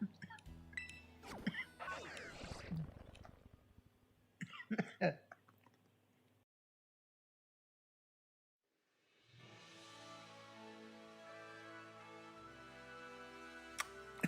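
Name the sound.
cough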